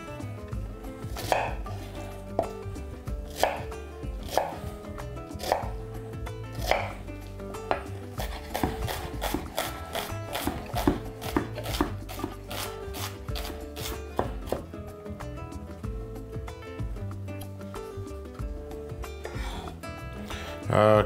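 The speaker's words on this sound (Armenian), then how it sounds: "Սոխը կտրատում ենք մանր։" A knife finely chops two small onions for a potato and meat casserole. Many quick, sharp chops follow in a fast, even rhythm, close and clear, with a few slower strokes near the start.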